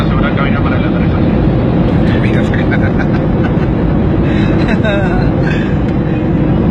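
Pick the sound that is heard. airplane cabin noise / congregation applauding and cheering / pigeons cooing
airplane cabin noise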